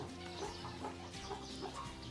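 Chickens clucking in a farm flock in Thailand, soft scattered clucks over a quiet background hum, fairly distant and faint.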